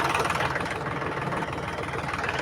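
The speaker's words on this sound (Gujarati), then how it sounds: "તો ટ્રેક્ટર ચાલુ છે" A tractor engine runs steadily in a field where a rotavator is cutting through brinjal plants, giving a continuous, fairly even rumbling drone with no talk over it.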